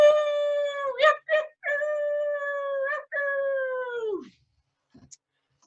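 A person imitates a coyote howl with a long, close vocal wail that breaks into short yips in the middle and then slides down to a fading end, followed by near silence.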